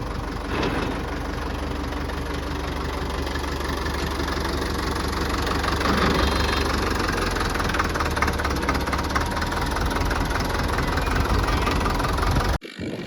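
A new tractor, fitted out with care, runs steadily on its way to the field, a continuous loud rumbling engine with a knocking beat, close and alone until it cuts off at the very end.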